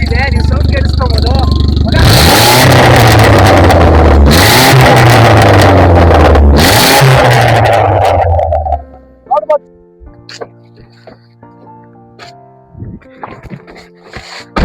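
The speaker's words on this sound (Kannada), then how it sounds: "ಈ ಗಾಡಿಯಲ್ಲಿ ಆಕ್ರೋಪ್ರೋಯಿಕ್ ಎಕ್ಸಾಸ್ಟ್ ಇದೆ. ನೀವು ಸೌಂಡ್ ಕೇಳಿಸ್ಕೋಬಹುದು." A Volkswagen Polo 1.6 with a modified Akrapovic exhaust revving hard nearby, three loud rising blips in quick succession with a throaty drone between them, then dropping away to quieter sounds and a voice speaking.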